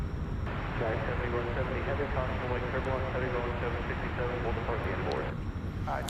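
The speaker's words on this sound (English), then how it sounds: "So here comes the Atlas Air 747-400 from Anchorage." An Atlas Air Boeing 747-400 arriving from Anchorage at DFW Airport at night gives a steady, broad jet roar that runs the whole time beneath someone talking over it.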